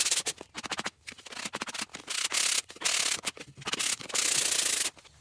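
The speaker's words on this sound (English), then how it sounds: "Now I'm going to break the edges with a piece of sandpaper and this sanding block." Rhythmic scratchy strokes of sandpaper on a sanding block breaking the edges of a wooden sign, quick back-and-forth passes with short pauses, close and clear.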